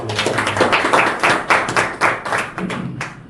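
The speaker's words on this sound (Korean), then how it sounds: "큰 박수로 환영해 주십시오" A small audience claps to welcome a university professor at a district council research group's final report meeting, with distinct, fairly loud claps falling in an uneven rhythm that thins out toward the end.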